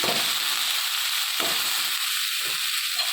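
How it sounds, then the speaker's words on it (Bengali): Mixed vegetables fry with salt and turmeric in a pan, giving a constant bright sizzle with a couple of spatula stirs and scrapes. "দিয়ে ভালো করে আমি এটা নেড়ে নেবো"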